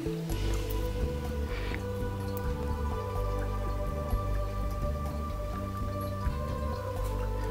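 Water trickling steadily in a small handmade ceramic drinking fountain for Persian cats, a soft continuous flow with faint drips beneath a low steady hum, close and without speech.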